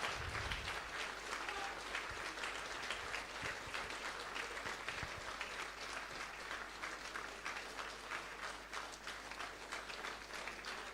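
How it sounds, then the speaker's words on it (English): A graduation ceremony audience applauds in a dense, steady wash of clapping that holds at an even level for the whole stretch, with no pauses. "give yourself the best possible applaud"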